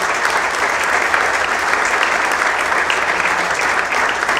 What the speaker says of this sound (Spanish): luego del aplauso de todos